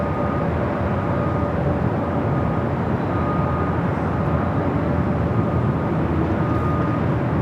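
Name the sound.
Aero Mexico Boeing 787-9 Dreamliner taking off from LAX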